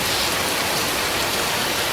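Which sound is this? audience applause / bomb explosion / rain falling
rain falling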